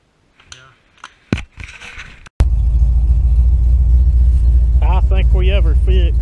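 A car engine fitted with a Holley carburetor that had a flooding problem from a sticking needle and seat roars to life abruptly after brief talk, then holds a loud, steady idle rumble while a voice speaks over it.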